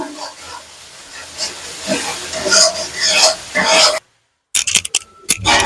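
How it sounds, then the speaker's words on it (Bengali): A spice paste with salt, turmeric and chili powder is sautéed in a pan, hissing and sizzling beneath a speaking voice, then a brief silence before some clattering bursts. "এর মশলাটা আমি সুন্দর করে কষিয়ে নেবো"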